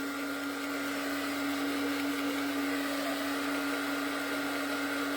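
A handheld heat or air drying tool blows steadily over a craft frame, giving a constant loud whirring hiss with a steady motor hum that runs unbroken throughout.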